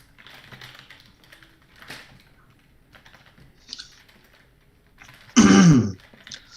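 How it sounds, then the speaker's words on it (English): A single short, loud dry cough bursts out near the end, after quiet stretches of faint keyboard typing and soft background noise. "Sounds like a dry cough you got there, pal."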